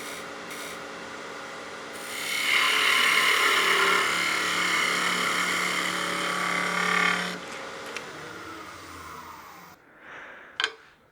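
A skew chisel takes a slicing cut across a spinning wood blank on a lathe, giving a sustained close hissing scrape for several seconds that fades out, followed by a few soft knocks.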